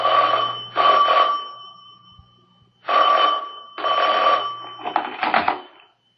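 Old-style telephone bell rings in four long bursts with a pause, then a rattling half-ring as it cuts off, loud and close in a quiet room.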